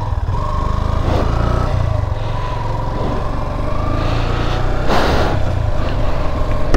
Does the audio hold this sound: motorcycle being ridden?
yes